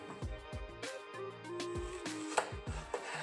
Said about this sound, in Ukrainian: Тепер нам треба перець нарізати соломкою.